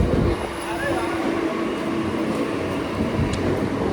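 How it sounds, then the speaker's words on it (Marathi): A train rumbles steadily into a platform amid crowd noise and voices, with a faint metallic squeal near the end. "2 ट्रेन मिस झाल्यानंतर तिसरी ट्रेन आलेली आहे"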